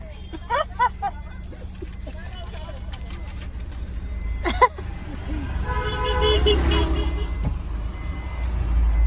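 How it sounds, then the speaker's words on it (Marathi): A car on the road with a new driver at the wheel, engine rumble rising in the second half, with horn toots and beeps around it and people talking throughout. "ऋतू गाडी चालवते ड्रायव्हर नवीन"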